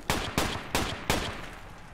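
Four sharp, evenly spaced assault rifle shots ring out in a video game, each loud crack followed by a short decaying echo, with no voices over them.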